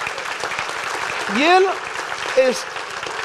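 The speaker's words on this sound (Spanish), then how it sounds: "dale un aplauso al Señor" A church congregation applauds during a Spanish-language sermon, a steady wash of clapping running under the preacher's voice as he speaks briefly.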